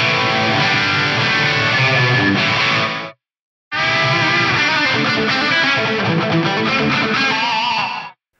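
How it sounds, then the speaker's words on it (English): Loud processed guitar through a Megatap delay pedal with its taps turned down for a slapback echo, playing in two sustained passages separated by a brief silence. "Just kind of sounds a little less hi-fi and, I don't know, a little bit more like a slapback echo"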